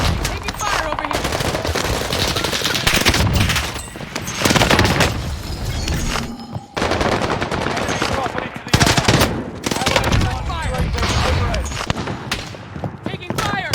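Dense automatic gunfire from a PPSh submachine gun in the shooter game Call of Duty: Warzone Pacific, loud rapid bursts repeating throughout with brief pauses, mixed with a player's voice talking over the shots.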